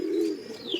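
A pigeon gives a single soft, low coo near a straw pile, brief and fairly quiet, with no voices.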